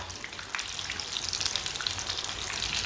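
Potato tikkis fry in hot oil, giving a soft, steady crackling sizzle with scattered pops. The sound is close and continuous, with no one talking.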